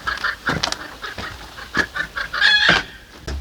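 A hen at a forest homestead clucks repeatedly in short, irregular bursts, fairly close, with a louder squawking cry near the end and no talk over it.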